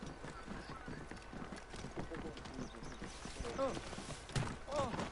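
Hooves clip-clop in a quick rhythmic trot as horses move through a city street in the video game Assassin's Creed Origins, with a brief neigh, distant crowd murmur and a voice talking over it.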